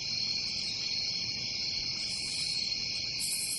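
Crickets chirp in a dense, steady high trill that runs unbroken and close, with a second chirping layer joining in briefly, and nothing else in the scene.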